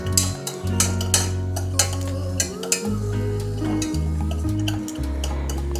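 A spoon stirs a dry mix of cocoa powder and cornflour in a bowl for an eggless chocolate cake, giving soft, repeated scraping and light clinks over a steady low hum.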